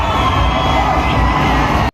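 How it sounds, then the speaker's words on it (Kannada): Dense stadium crowd at Chinnaswamy Stadium roaring and cheering during an RCB vs DC IPL cricket match as Virat Kohli walks onto the ground, a loud sustained wall of shouts and whoops that cuts off abruptly at the end. "ಕೊಹ್ಲಿ ಗ್ರೌಂಡ್ ಒಳಗೆ ಎಂಟ್ರಿ ಕೊಟ್ಟ ತಕ್ಷಣ ಎಲ್ಲರೂ ಎದ್ದು ನಿಂತ್ಕೊಂಡು ಜೋರಾಗಿ ಕಿರಿಸ್ತಾ ಇದ್ರು"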